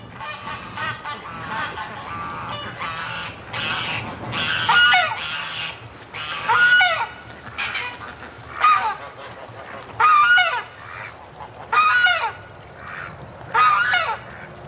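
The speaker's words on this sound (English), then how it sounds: "Oh, the goose is picking on her." Geese honk repeatedly at a pond's edge among ducks, loud nasal calls arriving in bursts every second or two over a steady background of softer waterfowl chatter.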